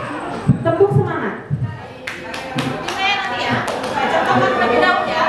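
Group rhythmic clapping during a 'tepuk semangat' icebreaker, sharp claps in bursts and patterns mixed with voices chanting along, fairly close and lively.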